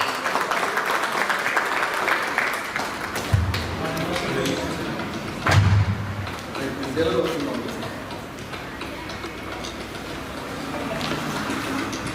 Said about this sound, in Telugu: సో ఇంకొకసారి అందరూ గట్టిగా క్లాప్స్ కొట్టి కంగ్రాచులేషన్స్ రిక్వెస్ట్ చేస్తున్నాము టు ద హోల్ టీమ్